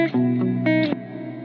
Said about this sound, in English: with the long pre-delay, just here it starts dry and then the reverb kicks in